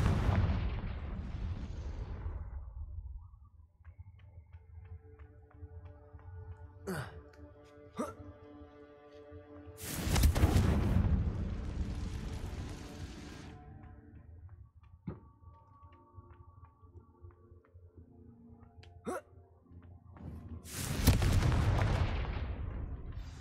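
Confringo explosion spell blasts in the video game Hogwarts Legacy, three loud booming bursts spaced several seconds apart, with ringing magical tones and quieter game ambience between them.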